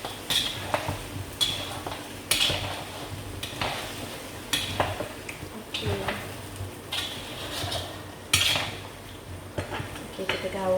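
Mutton curry with potatoes is stirred in a pot, the spoon clanking and scraping against metal in irregular close knocks, with a faint sizzle and muffled background voices.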